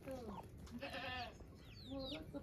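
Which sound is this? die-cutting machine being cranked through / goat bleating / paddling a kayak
goat bleating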